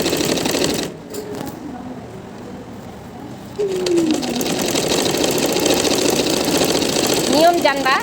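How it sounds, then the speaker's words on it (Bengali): A sewing machine top-stitches a zipper into a kameez, its motor running in a steady buzzing whir that pauses briefly and then resumes for the rest of the time, with a few squeaky sounds layered over it. "এই যে এখন তুমি সোজা পাটে একটা সুন্দর করে চাপ সেলাই দেবে"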